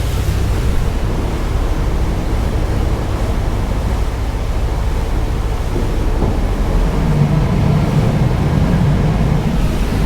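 A westerly wind and choppy sea waves at Sydney Harbour make a loud, continuous rushing roar close to the microphone, with no talking.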